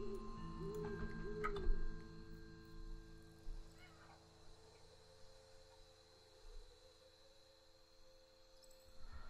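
A pet cat meows several times, fairly close, its calls drawn out over a steady background hum with soft clicks, with no one speaking.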